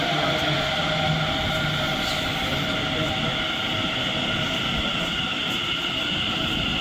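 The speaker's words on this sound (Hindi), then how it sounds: "ये मेट्रो आ चुकी है" A Delhi Metro train rumbles steadily into a station, a continuous loud mechanical drone with a high electrical whine over it.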